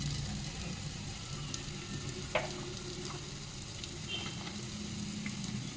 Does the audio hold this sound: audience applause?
no